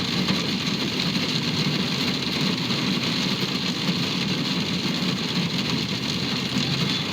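Steady low engine hum from inside a car with the engine running, a continuous droning rumble heard alone with no talk.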